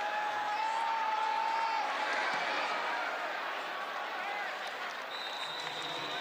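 Home crowd at a college football stadium during Houston vs. Arizona State, a steady, subdued roar of distant crowd murmur with scattered clapping and no loud cheering.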